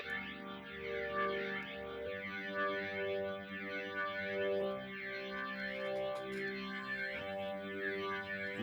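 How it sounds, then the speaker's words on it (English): Vocals run through a Leslie rotary speaker effect swirl with a wobbling, chorus-like shimmer and pitch sway, the sustained tones warbling steadily over several seconds. "Which to me sounds much more like a Leslie."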